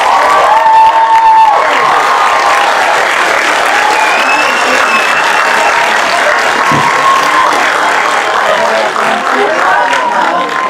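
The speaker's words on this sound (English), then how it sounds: "Ladies and gentlemen, the class of 2025, give them a round of applause." A high school commencement crowd applauds and cheers the class of 2025, loud sustained clapping mixed with whoops and shouts across a large gathering, continuing without a break for the whole stretch.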